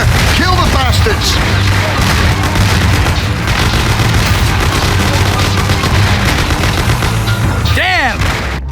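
Repeated gunshots and bursts of automatic fire in a loud 1930s-style gang shootout from the game Mafia (2002), rapid cracks layered over booming echoes, with voices shouting amid the shooting.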